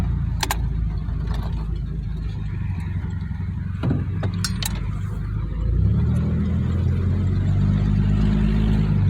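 A 1951 Dodge Wayfarer with Gyro-matic transmission rolls slowly over speed bumps, its low engine drone steady and close inside the cab, with a few light metallic rattles and clicks; the engine note deepens and swells briefly toward the end.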